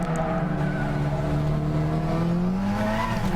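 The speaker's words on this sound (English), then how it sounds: "This car may be much more stable, but it still gets wheel spin." A racing car spinning its wheels in the Gran Turismo 6 video game, with a steady engine drone that climbs in pitch under faint tire squeal, loud and close throughout.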